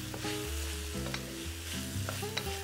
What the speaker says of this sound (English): Look at that sizzle. Well, hear that sizzle.